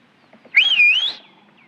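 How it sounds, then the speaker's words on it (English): A person whistles a single rising-and-falling note, close and clear, lasting about half a second with quiet surroundings. "You know how to whistle, don't you?"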